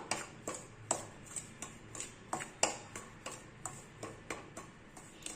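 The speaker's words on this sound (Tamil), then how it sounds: "இதை நம்ம லேசா வறுத்துக்கலாம்" Homemade raw rice flour dry-roasted in a pan for kozhukattai, giving a steady series of light, sharp scraping ticks from a spatula roughly every half second, close up and fairly quiet.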